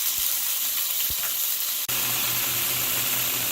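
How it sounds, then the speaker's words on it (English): Six tablespoons of green curry paste sizzle in a hot pan, a steady dense hiss and crackle with a brief dip partway through, and no talk. "I'm going to be sweating out 6 tablespoons of green curry paste"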